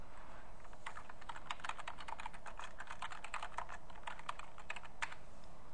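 Steady computer keyboard typing in a classroom-software setting, a quick irregular patter of individual key clicks over a faint constant background hiss, with no voices.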